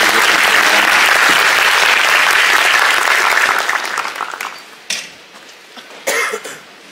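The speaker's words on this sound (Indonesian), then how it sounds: "Kita beri tepuk tangan untuk Pak Dubes ya." An audience applauds the ambassador, a loud sustained burst of clapping that fades after a few seconds into a quiet room marked by a couple of coughs and throat clearing.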